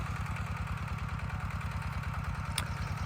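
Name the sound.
large tractor engine idling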